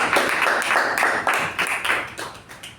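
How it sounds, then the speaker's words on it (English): An audience at a Toastmasters meeting claps in applause, a dense, steady patter of many hands that lasts the whole stretch and fades slightly toward the end. The applause is close and loud, with no speech over it. "Let's give a big round of applause to our table topic masters."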